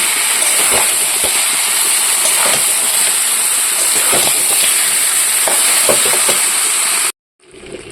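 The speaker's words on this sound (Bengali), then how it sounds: "এবার মাংসগুলো দিয়ে দিচ্ছি ভালো করে গ্যাসটাকে কমিয়ে আস্তে আস্তে এটাকে কষিয়ে নেব" Mutton pieces frying in a pan over lowered gas heat, with ginger and garlic already cooked in, give a loud, steady hiss and sizzle for about seven seconds and then cut off abruptly.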